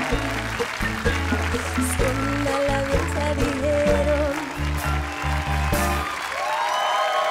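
A studio audience at the TV game show "100 de la audiencia" applauds, a dense, continuous wash of clapping mixed with loud, driving music throughout.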